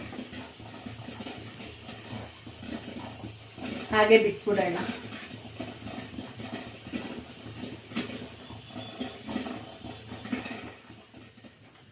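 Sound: pressure cooker releasing steam after whistling

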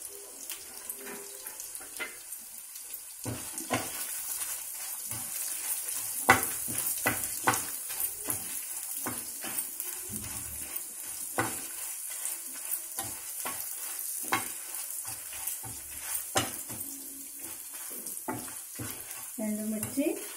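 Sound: dry red chillies, coriander seeds and cumin roasting in oil

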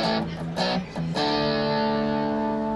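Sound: guitar through Analog Alien pedal with heavier distortion

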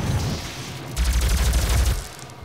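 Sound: enemy gunfire in the video game DOOM

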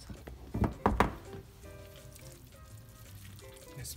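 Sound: mixing spaghetti squash with cheese in a pan

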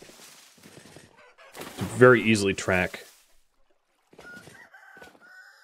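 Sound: roosters clucking and crowing in the video game Vintage Story

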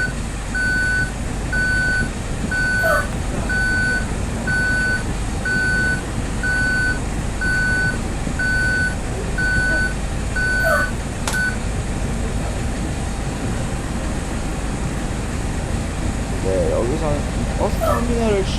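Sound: intercity double-decker bus reversing beeps

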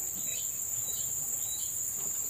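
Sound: crickets chirping, kept as fishing bait

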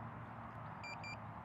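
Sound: drone return-to-home beep

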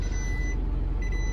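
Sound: 2022 Chevrolet LCF 4500 diesel engine running

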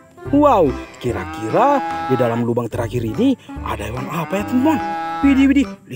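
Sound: dairy cow mooing

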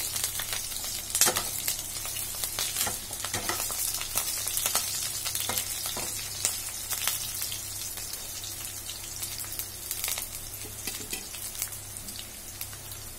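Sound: potatoes frying and being stirred in a pan

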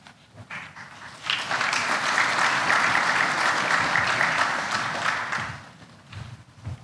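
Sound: lukewarm applause at a graduation ceremony

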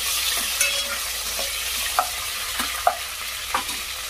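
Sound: stirring tomato and mint into frying ginger-garlic paste

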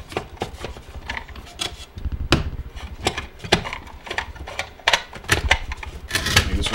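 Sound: screws being screwed into hot tub pump wet end

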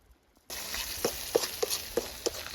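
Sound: onion and capsicum frying in oil

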